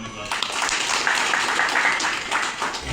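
Crowd applause at a Shiv Sena political meeting in Satara, a steady dense wash of clapping lasting throughout, fairly loud and continuous with no clear pauses.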